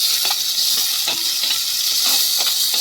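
Coconut pieces fry with pork in a pan for a pork roast, giving a loud, continuous close-up sizzle and hiss with faint stirring scrapes underneath.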